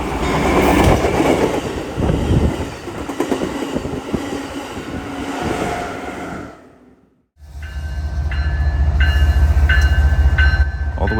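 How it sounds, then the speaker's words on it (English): An Amtrak Cascades passenger train rushes past at speed near Salem, a loud roaring wash of wheels and rail noise that briefly drops out, then returns with a rumbling low drone and rhythmic clicking over the rails. "Amtrak Cascades blasts through LaBiche and Salem"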